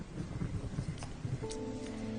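Heavy rain pours steadily in a movie scene, a dense wash of noise with low rumbling that fits distant thunder, all quite faint and brief.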